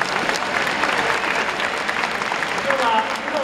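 A large stadium crowd roars and applauds at a baseball hero interview after a player's first win, a broad continuous wash of cheering with voices layered over it.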